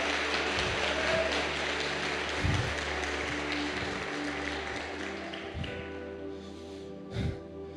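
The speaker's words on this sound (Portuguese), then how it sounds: "Então aplaude o Senhor nesse lugar" Congregation applauding during a Portuguese-language church sermon, a broad sustained wash of clapping with scattered thumps, gradually thinning toward the end.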